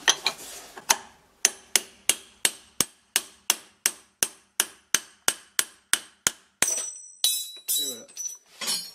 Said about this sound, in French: On va prendre un marteau